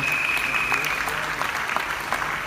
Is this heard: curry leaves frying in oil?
no